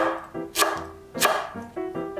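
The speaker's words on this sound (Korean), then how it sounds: "홍고추와 청양고추도 5mm 두께로 어슷 썰어주세요." A knife slices red chili and Cheongyang chili peppers diagonally into 5 mm pieces on a board, giving two sharp, close chops about half a second apart over a steady tonal background.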